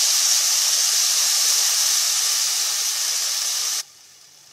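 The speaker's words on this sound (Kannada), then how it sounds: "ಈರುಳ್ಳಿ ಫ್ರೈ ಆಗ್ತಾ ಇದೆ" Onions frying in a little oil for an Iyengar-style onion gojju: a steady, close, bright sizzling hiss that holds for nearly four seconds, then drops abruptly to a much quieter sizzle.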